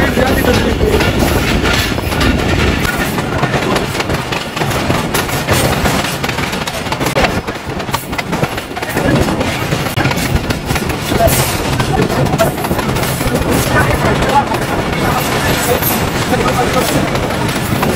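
A Pakistan Railways passenger train rolls along the track with a loud, continuous rumble and clatter of wheels, heard from on board. Someone talks over it.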